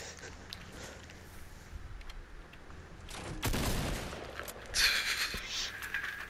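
Gunfire in Fortnite, including a shotgun, bursts out as loud, broadband blasts against a busy game background, with a heavy volley midway and another later, while players talk excitedly.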